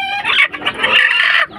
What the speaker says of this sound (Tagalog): Naglilimlim na yung ating brood hen na white hatch.